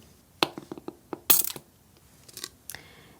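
An alcohol spray bottle spritzes onto a watercolour leaf painting: a short hissing burst among light clicks of the trigger and bottle, followed by a fainter second spray.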